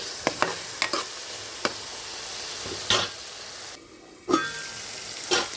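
Tomato and cauliflower masala curry with garam masala frying in a pan, a steady close sizzle broken by sharp clanks and scrapes of a spoon stirring, with one brief lull before the stirring resumes.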